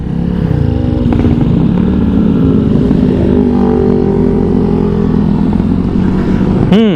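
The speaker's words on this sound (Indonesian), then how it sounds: "Impresi pertama, mesinnya mirip banget sama PCX ya, karena ini mesin PCX juga sebetulnya." A Honda Vario 160 scooter with its 160 cc PCX engine runs steadily at close range, a loud continuous hum and drone throughout, rising briefly in pitch at the very end.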